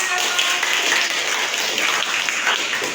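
Steady applause from a classroom audience at the end of an Indonesian language lesson, dense clapping sustained throughout at an even level with no pauses.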